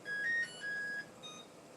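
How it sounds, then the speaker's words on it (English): A kitchen timer goes off while mussel soup is being made, giving three steady electronic beeps of falling length at a moderate level, then a faint short chirp. "Our timer is going to hit its time."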